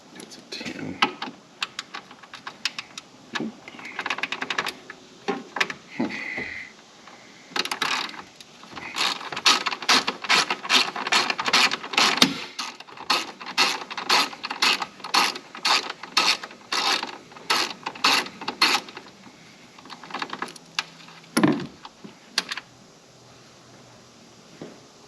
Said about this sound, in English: I've removed the bolt here that was holding this on